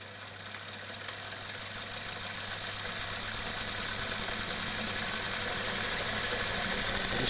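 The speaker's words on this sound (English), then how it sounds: "This motor's going to go so fast, or faster than it's ever gone before." A very large DC brush motor spins at high speed, a loud, steady high-pitched whine with a low hum beneath that builds slightly over several seconds, with no talking.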